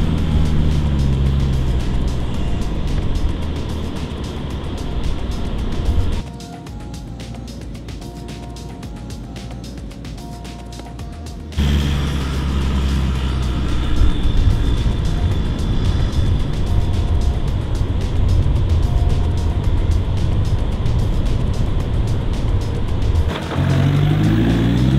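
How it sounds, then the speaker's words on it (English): Toyota Hilux engine labouring with its throttle controller switched off, a steady loud drone heard from inside the cab, dipping briefly midway before the strained engine noise returns with no talk. "you're gonna see how much my laggy Hilux does struggle"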